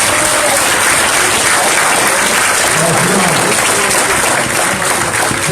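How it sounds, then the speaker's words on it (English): An audience at the 2019 Israelite Summit in Atlanta, Georgia claps steadily and loudly for the whole stretch, a dense, continuous roar of applause that fills the hall. "So give the brothers a round of applause again."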